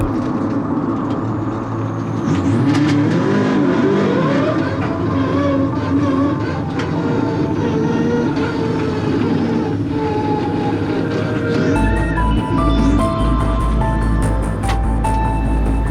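Rally car engine on a forest stage at the Tall Pines Rally in 2021, a loud, continuous mechanical roar with shifting pitch, rising in intensity near the end, with no talk over it.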